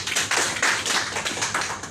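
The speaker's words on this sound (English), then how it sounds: "Let's clap for her." An audience at a live event in Nairobi, Kenya claps in a quick, dense patter of many hands, moderately loud and continuous, with no voices over it.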